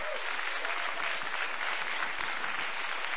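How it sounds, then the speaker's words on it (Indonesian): Dense, sustained applause from a large crowd at the Indonesian presidential inauguration, steady and full throughout with no break. "Tepuk tangan untuk bangsa Indonesia."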